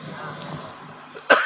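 A single sharp cough bursts out near the end, close and fairly loud, after a stretch of quiet room tone during a sermon.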